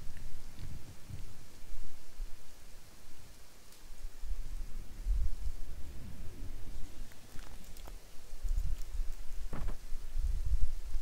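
Rain falls as an ambient sound effect in a World War II Berlin Blitz video game mod: a steady hiss of downpour with low rumbling swells and scattered drop-like ticks.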